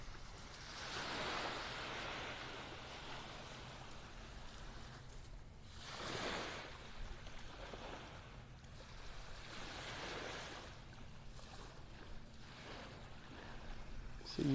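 Gentle surf washes onto the beach at dawn in North Naples, Florida, soft swells rising and fading every few seconds under a faint breezy hiss, fairly quiet and distant.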